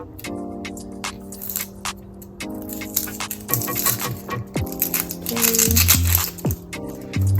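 Onion being peeled by hand, with close crinkling and crackling of dry papery skin in irregular bursts that grow busier toward the end, and no speech.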